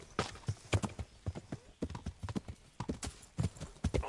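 Horse hooves clip-clopping in the medieval video game Kingdom Come: Deliverance, a brisk, steady run of close, hollow hoof strikes on the ground with an uneven gait rhythm.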